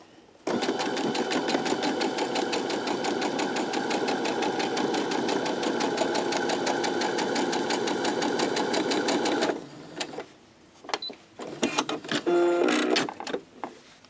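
A sewing machine runs in one long, rapid, steady burst of stitching as it joins fabric basket sections, then stops, followed by a few short, irregular bursts and handling noises.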